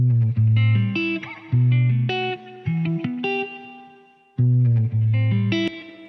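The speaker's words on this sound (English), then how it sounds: "that's a crazy great sounding spring reverb" Distorted electric guitar chords and single notes pass through a Strymon BigSky spring reverb plugin, leaving a splashy, metallic tail as each phrase rings out and decays before the next strike.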